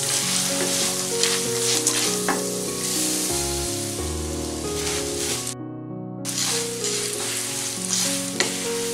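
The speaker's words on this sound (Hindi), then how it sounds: "पोहे को हल्के हाथ से मिक्स करें" Poha being stirred and mixed in a hot pan with a spoon, giving a steady sizzle and soft scraping throughout, close and moderately loud, with a short drop to near silence partway through; no talking.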